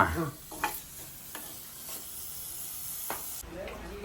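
Small shallots sauté in a pan with a soft, steady sizzle and hiss, broken by several scraping stirs of a spoon. It sounds close and fairly quiet.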